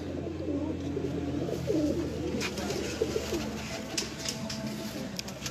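A Lakha pigeon coos softly nearby, a few low rolling coos standing out over a faint steady background hum, with light tapping and rustling scattered through.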